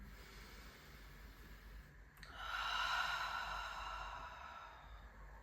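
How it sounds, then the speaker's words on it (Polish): A slow, deep breath is drawn in and let out during a guided relaxation, a soft close airy rush rising and fading over a few seconds with nothing else heard. "weź kilka głębszych oddechów do podbrzusza, wdech nosem, wdech ustami"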